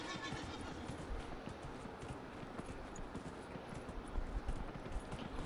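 Horse hooves clip-clop in steady, rhythmic steps within Dragon Age Inquisition, a continuous trotting patter over dense game ambience, moderately loud, with no speech.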